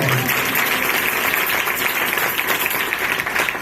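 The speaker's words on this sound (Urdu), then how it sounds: "خداوند کے لیے زوردار تالیاں" A church congregation bursts into loud, sustained applause, a steady wash of many clapping hands filling the room with faint voices mixed in.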